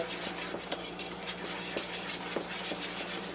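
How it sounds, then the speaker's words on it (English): A whisk clatters rhythmically against a bowl, blending buttermilk batter ingredients with baking soda, producing quick repeated metallic clicks and scrapes close by with no talking. "we're going to go kind of whisk that all around, get it all blended together"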